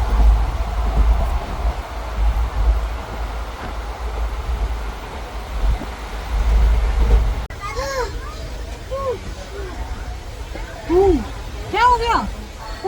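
Inside a hot passenger train while riding: a steady low rumble of the moving carriage, and children's voices chattering and calling out over the rumble later on.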